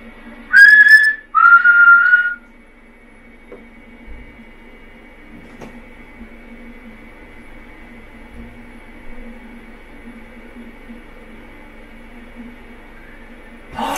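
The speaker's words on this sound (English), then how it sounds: "That was a nice clear whistle." Two clear, loud human-like whistled notes ring out in a quiet haunted hotel room, short and close, each a bright rising tone, followed by a long stretch of faint hum and room silence with occasional small knocks.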